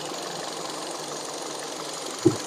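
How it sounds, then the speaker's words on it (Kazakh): A 2016 Hyundai Solaris 1.6 automatic engine idles with a steady, even hum and light mechanical ticking, close by, ending with a couple of brief knocks. "Мотор четко иштеп турат."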